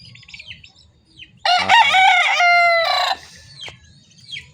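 A rooster crows loudly and close at a village where many people raise chickens, one long strained call, with faint clucking and chirping from the flock before and after.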